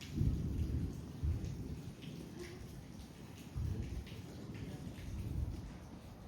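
Rain patters steadily over a mountain village while deep thunder rolls in and swells several times, low and distant.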